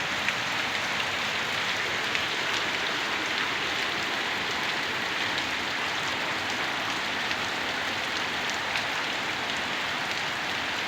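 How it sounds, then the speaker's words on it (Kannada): Heavy night rain pours down in Tumakuru, Karnataka, a steady, dense hiss of drops on surfaces that stays even and unbroken throughout, with no voices. "ಅದ್ಭುತ ಮಳೆ ತುಮಕೂರಲ್ಲಿ."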